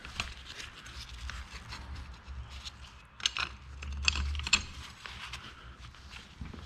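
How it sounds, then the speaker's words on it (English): A bolt and jam nuts are fitted by hand into the 3-point hitch of a John Deere 140 garden tractor, giving faint, sparse metallic clinks and taps in a quiet workshop. "I'm putting the bolt in from the outside."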